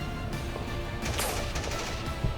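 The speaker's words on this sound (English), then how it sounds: "he unholsters his bolt rifle once more and lets loose a volley into an oncoming Genestealer" A volley from a bolt rifle, a burst of several loud, sharp cracks in quick succession over a dense rumbling background, close and harsh.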